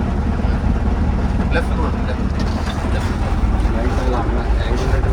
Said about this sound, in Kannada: ಅದಕ್ಕೆ ನೋಡಿ ಫಾಸ್ಟ್ ಬೋಟ್ ಬರ್ತಾರೆ